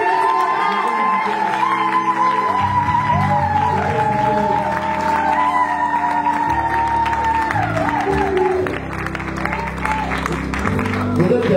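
Applause and cheering from a church congregation at a pastor ordination ceremony, a dense, sustained wash of clapping and whoops, with music and voices mixed in throughout.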